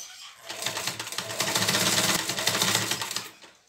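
A sewing machine runs a rapid, steady stitching burst across a patchwork fabric 3D face mask, close and loud, rising quickly from quiet, holding for about three seconds, then stopping.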